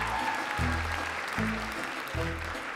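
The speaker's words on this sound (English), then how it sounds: "Everyone, give him a round of applause." Audience applause at a medical students' comedy smoker show, a broad steady wash of clapping filling the clip with low musical tones pulsing underneath.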